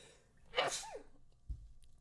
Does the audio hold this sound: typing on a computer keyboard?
no